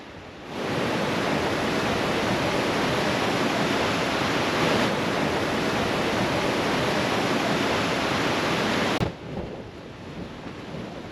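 The Snowy River rushes beneath the Illawong Bridge in the Australian alpine country near Thredbo, a loud, steady broadband roar of flowing water that drops away abruptly near the end, leaving a softer background rush.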